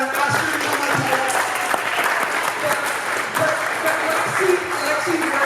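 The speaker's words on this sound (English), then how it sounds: "We're going to give her a round of applause and kind of ask her to come up here." Steady, dense applause from a church or event audience fills the whole stretch, loud and continuous with no gaps, a crowd clapping together without any pause or fade.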